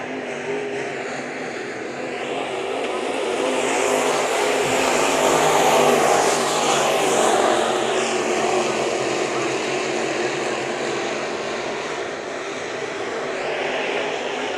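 Sport modified race cars at Bakersfield Speedway roar past in a continuous, swelling engine drone that peaks mid-pass and holds steady, with a commentator talking over it.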